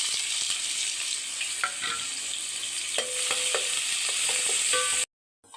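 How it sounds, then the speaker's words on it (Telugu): Onion pieces, bay leaf, peppercorns and kasuri methi fry in hot oil for tomato rice, giving a steady close sizzle with scattered scraping stirs of a utensil, then a sudden cut to near silence at the end. "ఇందులోకి మనం ముందుగా కట్ చేసుకున్న ఉల్లిపాయ ముక్కలు, బిర్యానీ ఆకు, మిరియాలు, కస్తూరి మెత్తిని వేస్తున్నానండి"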